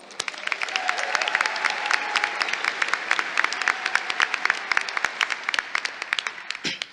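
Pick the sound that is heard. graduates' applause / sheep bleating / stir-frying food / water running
graduates' applause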